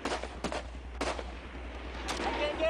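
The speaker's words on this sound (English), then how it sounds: "One of the Marines records this footage as he takes fire from the opposite ridge." Gunfire from an opposite ridge during a firefight in Afghanistan, several sharp distant cracks spaced apart over a steady low rumble of wind or engine noise.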